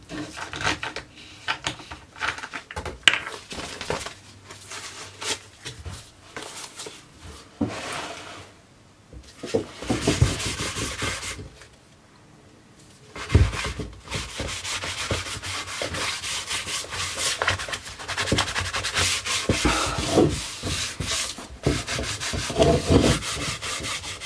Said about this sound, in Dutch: En nu ga ik hem even met lijnzaadolie helemaal insmeren.